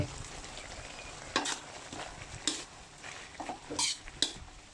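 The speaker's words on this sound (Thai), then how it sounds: "ก็จะผัดไปสักประมาณสองนาทีให้ตะไคร้ที่เราใส่ไป มีความนุ่ม" Pork leg stir-fried with lemongrass in a pan: a soft steady sizzle runs throughout while a utensil scrapes and clatters against the pan in several sharp, irregular strokes, fairly close and quiet, with no talking.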